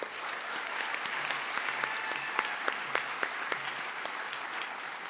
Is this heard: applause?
yes